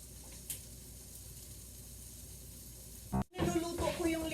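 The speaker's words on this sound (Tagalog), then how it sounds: "Niluluto ko yung linguiça" Linguiça sausage frying in a little oil in a pan, a soft, even sizzle close by, broken near the end by a brief clatter and a louder burst of crackling.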